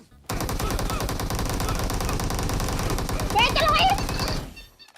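A sustained burst of automatic gunfire in a video game shooting match, loud and close, rattling steadily for about four seconds before cutting off abruptly.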